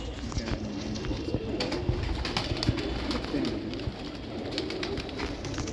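Pigeons at a pigeon keeper's loft in Muzaffarpur, Bihar, India give low, throaty coos that repeat over a steady background murmur.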